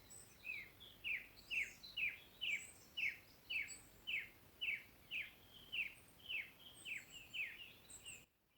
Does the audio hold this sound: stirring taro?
no